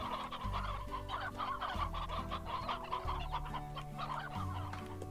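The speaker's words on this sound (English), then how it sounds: "I see they've turned into hen hens now" Hens clucking in the farming video game Slime Rancher, a continuous flock of chicken clucks and squawks over a steady looping music bed, with no talking.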